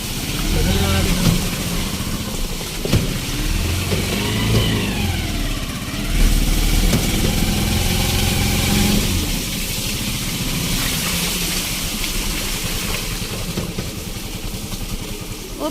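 A motorized tricycle's engine runs close by on a rainy riverside road, a steady mid-pitched rumble that swells and revs at times, while people talk over it.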